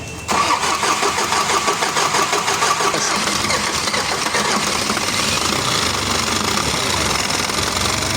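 An Isuzu 4HG1 diesel engine cranks and catches after its timing was reset, then runs with a steady, loud rattling clatter close by for the rest of the span.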